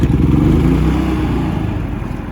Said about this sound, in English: Now let's go ahead and start it and see if she runs.